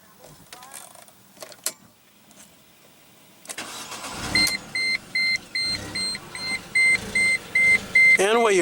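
A supercharged 1.8-litre four-cylinder engine in a 2005 Mercedes-Benz C230 compact sedan cranks and catches, followed by a steady idle with a repeating electronic chime beeping over it; a brief voice and some handling noise come before the start.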